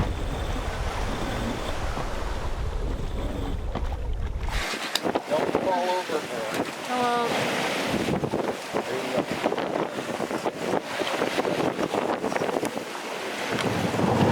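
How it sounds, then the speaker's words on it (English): Strong wind buffets a 37-foot Shannon sailboat at sea, roaring against the microphone before dropping to rushing water and waves along the hull, with brief creaks and intermittent gusts returning. "The winds have picked up."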